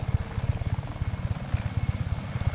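Rhythmic chopping thump of a helicopter's rotor in the video game Just Cause 3, steady and fairly loud, heard alone without talk.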